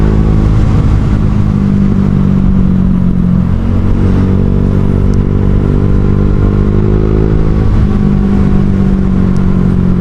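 A Honda Vario 150 scooter fitted with a Kenziro aftermarket exhaust hums steadily and loudly throughout a ride, a continuous close engine drone with slight shifts in pitch and no speech over it.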